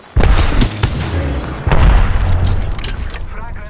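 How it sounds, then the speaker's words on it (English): Gunfire erupts in a ranked battle royale video game match, with loud booming shots and bursts close by, one sharp report followed by a second heavy volley and a rumbling tail, while a voice speaks over it. "I'm getting shot."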